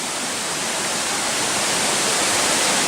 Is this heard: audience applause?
no